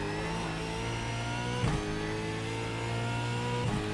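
A video game race car engine, an Australian Supercar at Brands Hatch in iRacing, drones loudly and steadily with a smooth, even tone, nudging into brief revs twice.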